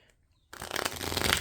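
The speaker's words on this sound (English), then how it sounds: "so I'm just going to shuffle these really quick." A deck of tarot cards is riffled in a quick shuffle, a dense fluttering rush of card edges that starts abruptly after a moment of near silence and carries on close up.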